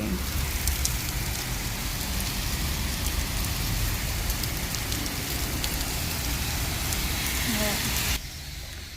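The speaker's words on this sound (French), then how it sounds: "Regardez comment il pleut." Steady rain falls outdoors beside a shop front on a busy street, a dense continuous hiss close by that cuts off abruptly near the end.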